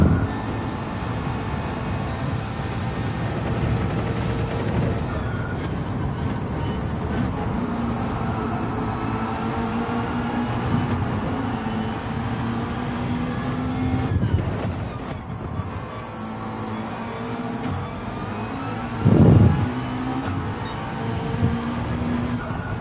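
A race car engine in Gran Turismo 7 drones continuously through a Gr4 race, its pitch rising and falling with gear changes, and there is a brief louder burst near the end.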